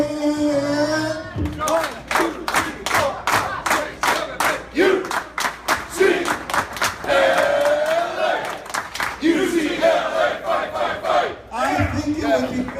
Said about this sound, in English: We're going to give him an 8 clap just for showing up at the last minute.